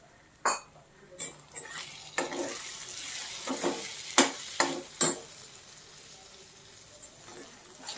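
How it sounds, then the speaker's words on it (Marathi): Chopped eggplant goes into a hot pan, with a series of sharp scraping and clanking stirs over a low sizzle of frying, the strokes loud and irregular with quieter gaps between. "तर आपण ही वांगी घालूया पहिल्यांदा"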